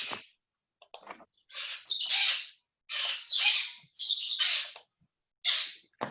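A parrot squawks loudly and repeatedly from a balcony, in harsh, raspy bursts of calls with short gaps between them, close by, with no talking.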